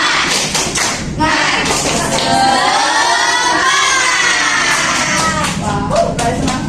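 Primary school pupils in a classroom teaching simulation perform the tepuk semangat clapping chant, with loud rhythmic claps and thumps mixed with children shouting together, fairly close and sustained throughout.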